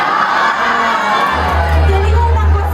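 A circus crowd cheers and shouts with children's voices prominent, a loud, lively roar that swells midway as a deep low hum joins in.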